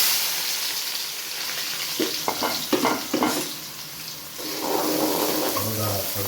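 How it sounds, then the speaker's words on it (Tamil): Onions for chicken fried rice hit hot oil, making a moderate, close sizzle with a few bursts of stirring and clattering in the middle, and a faint steady frying hiss continuing after. "இப்போ வந்து எண்ணெய் சூடாயிடுச்சு, வெங்காயம் போட்டுக்கலாம்"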